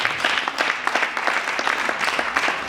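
An audience at a solemn opening ceremony applauds, a steady, moderately loud wash of many hands clapping with no voices on top.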